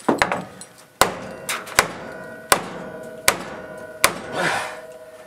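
A hammer repeatedly strikes heated metal to straighten it in a workshop: about half a dozen sharp, loud metallic blows land at a steady, unhurried pace, each ringing briefly before the next.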